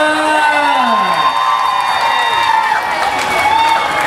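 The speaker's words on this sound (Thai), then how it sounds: "ขอเสียงปรบมือ" A large crowd at a charity donation and closing event claps and cheers together in a continuous, loud wash of sound, with whoops and voices rising over the applause.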